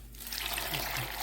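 Dissolved salt water poured over young ttalgari radishes in a container for kimchi, a steady close trickling splash with no talk.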